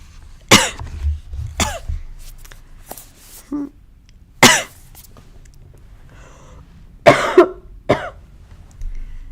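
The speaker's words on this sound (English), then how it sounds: "These coughs sounds worse" Several harsh coughs and throat-clearing bursts come in irregular clusters, close and loud, separated by quiet pauses.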